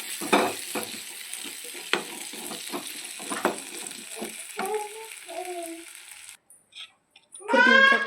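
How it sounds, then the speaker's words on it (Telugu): Onions with kasuri methi, cardamom, cinnamon and cloves frying in oil for Andhra chicken sukka, a soft sizzle broken by spoon scrapes, with a voice speaking partway through and a short clatter at the end. "ఆయిల్ వేసుకొని దాంట్లోకి కస్తూరి మేతి, ఎర్రగడ్డలు, ఎలకబుడ్డ, చెక్క, లవంగం వేసుకోవాలి"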